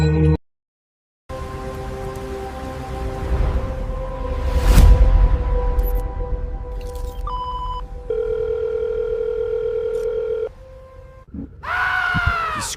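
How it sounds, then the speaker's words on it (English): A telephone sound effect in a horror story, with electronic ringing and dial-tone-like tones under a dark droning ambience, cut by a brief silence and a rising shriek at the end. "his phone vibrated one last time"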